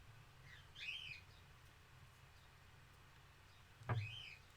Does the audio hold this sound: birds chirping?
yes